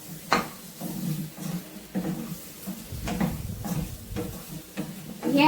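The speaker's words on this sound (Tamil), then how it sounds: "காளான் அப்பப்போ வணக்கி விடுங்க, கிளறி விடுங்க" Mushrooms stirred and frying in a pan for a mushroom curry, a spoon scraping in repeated strokes about once a second over a soft sizzle, close by.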